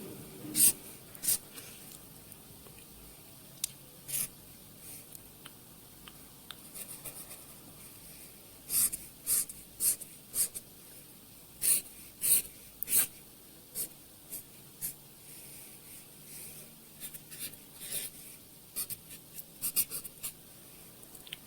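Pen or pencil drawing on paper in a quiet, close setting, soft scratchy strokes coming in short bursts with small pauses between them.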